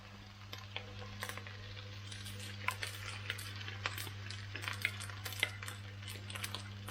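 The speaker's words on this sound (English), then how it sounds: "we add the rice." Rice tipped into a pan and stir-fried for pineapple prawn fried rice, with soft, scattered scraping and clinking of a utensil over a low, steady background hum, faint and fairly close.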